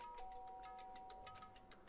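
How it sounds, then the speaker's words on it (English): A soft electronic doorbell chime in the video game Danganronpa: Trigger Happy Havoc rings with a sustained tone and a quick run of bright ding notes, faint and alone. "Byakuya stood in front of her door, not making a sound, then pressed the doorbell."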